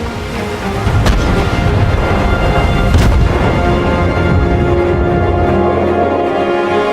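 Heavy naval artillery roars through a gun duel between the Russian cruiser Novik and the Japanese cruiser Tsushima, with loud booms standing out over a dense, continuous rumble like rolling thunder.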